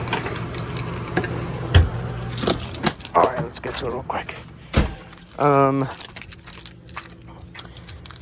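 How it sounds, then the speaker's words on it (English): Keys jangle in short metallic bursts inside a Thor Majestic 23A motorhome while they are found, someone speaking close by over the rattling and handling noise. "I have no idea where my keys are, so let's go find them real quick."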